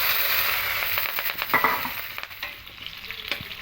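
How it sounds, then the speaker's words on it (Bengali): Whole nigella seeds, bay leaves and slit green chillies crackle and sizzle steadily in hot oil for a kachu shak tempering, with a few stirring scrapes and sharper pops in the middle; no talking. "এবার তেলের মধ্যে গোটা এই কালো জিরে ফোড়ন দেবো"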